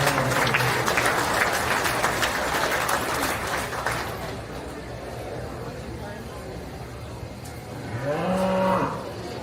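Market cattle at a Page County Fair beef show, with crowd applause filling the first half, then a loud, close moo rising near the end over a murmuring arena.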